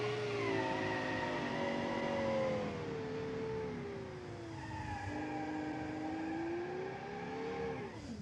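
A 1960 sports car in a racing video game spins its wheels, the engine revving and dipping while tires squeal and skid, loud and continuous, with a final rising rev near the end.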